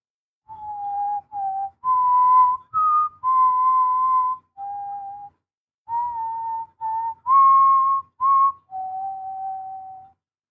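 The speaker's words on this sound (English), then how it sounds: "Don't forget the whistle." A person whistles a tune clearly and alone, in sustained pure notes with small pitch steps between phrases. The melody runs in two repeated phrase groups separated by a short pause, with no talk over it.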